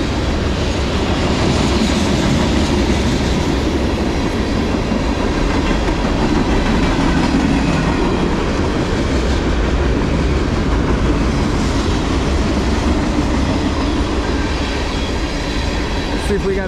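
A CSX manifest freight train rolls past close by, its cars giving a continuous loud rumble with rhythmic wheel clatter and occasional squeal, and a voice speaks briefly over it.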